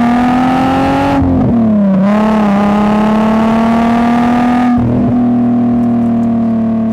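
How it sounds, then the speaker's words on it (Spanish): A Volkswagen Golf Cabrio's VR6 engine, with 15-degree cylinder offset, holds a deep steady drone, then blips upward twice in quick revs before settling back, loud and close with no talking. "su aspecto protagonista era su profundo y peculiar sonido, obtenido por el calado de 15 grados de los cilindros que lo hacen único."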